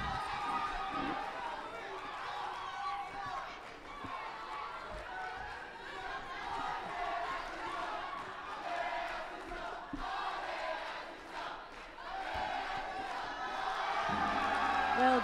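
A home crowd at a judo Grand Prix in Marrakech keeps up a loud, continuous roar of shouts and cheers in an arena, with a commentator's voice heard over it.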